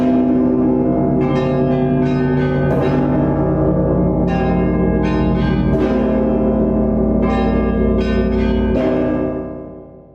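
Rostov cathedral bells, including the great Sisoi bell, ring in a dense, harmonious peal, with deep sustained tolls under repeated clusters of brighter bell strikes, loud and continuous before fading at the end.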